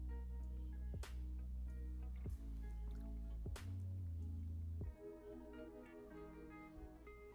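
Water is drained off a pot of cooked rice for chicken fried rice, with a few sharp drips and splashes followed by a softer, continuous trickle, close and quiet.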